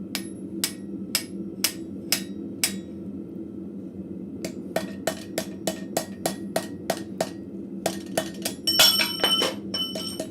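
Ringing hammer blows drive a round punch into a hot steel arrowhead socket forged from scrap metal at a blacksmith shop, steady evenly spaced strikes that pause, resume, then quicken into a rapid cluster, over a constant low forge roar.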